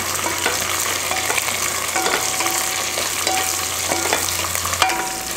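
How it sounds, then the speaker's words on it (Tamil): Onions sauté with fried okra in a pan, giving a constant loud sizzle broken by regular scraping strokes of a spoon as the mixture is stirred. "இந்தளவுக்கு வதக்கினதுக்கப்புறமா நம்ம வறுத்து வச்ச வெண்டைக்காயை இது கூட சேர்த்துக்கலாம். அதையும் சேர்த்து கொஞ்சம் வதக்கிக்கலாம்."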